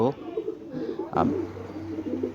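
Deep, soft cooing of several wild pigeons nearby in a colony in a coconut tree, a low throaty call repeating among quieter bird sounds.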